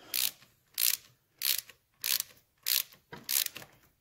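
Ratchet wrench snugging down bolts on the transmission of a 1971 Triumph Tiger 650 motorcycle during restoration, six evenly spaced bursts of rapid clicking, close and clear with quiet gaps between.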